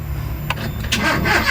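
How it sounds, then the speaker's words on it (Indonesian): A Toyota Kijang car engine cranks and fires, with brief starter bursts followed by a steady idle close to the microphone. "Kita coba mesinnya itu hidup atau enggaknya kita akan coba."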